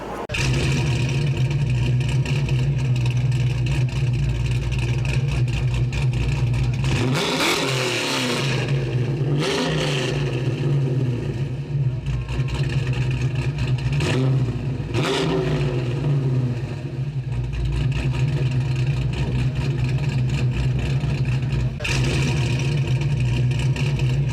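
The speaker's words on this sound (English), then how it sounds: "Car's a 1971 Plymouth Barracuda." A 1971 Plymouth Barracuda engine running steadily with a low rumble, revving up sharply a few times and then settling back down, loud and close throughout.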